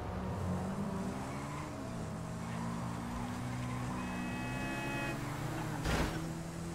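A motorcycle engine runs steadily at close range, a droning buzz whose pitch slides and holds, with a brief bright tone near the middle and a short louder burst toward the end.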